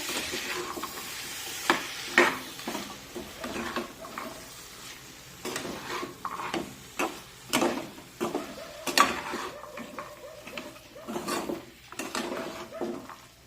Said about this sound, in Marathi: आता या भाज्या या मसाल्यामध्ये व्यवस्थित मिक्स करून घेऊया